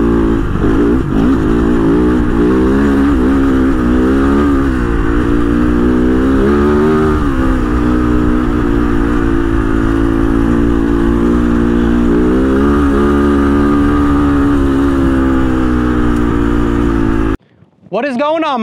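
A 2024 Kove FSE 450 Rally motorcycle drifting through corners, its single-cylinder engine loud and close, rising and falling in pitch with each throttle blip and shift, with talk over it until it cuts off near the end.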